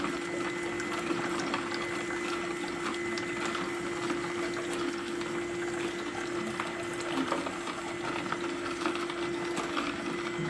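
A juicer pressing out fresh carrot, orange, ginger and turmeric juice gives a steady mechanical hum and whir, with faint liquid trickling beneath it throughout, no talk.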